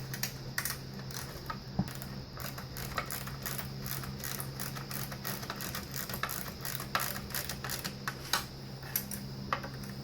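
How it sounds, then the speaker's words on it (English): Bolts are snugged down with a ratchet, a rapid run of close, crisp clicking and ticking that continues steadily throughout with small irregular taps. "Now you just want to tighten those down real quick."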